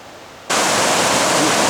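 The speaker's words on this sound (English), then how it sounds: "Here we are in the Manitou River. It's flowing pretty well, huh?" The Manitou River in Minnesota rushes loudly as a broad, steady roar of flowing water that cuts in suddenly after a quieter half-second of softer outdoor noise.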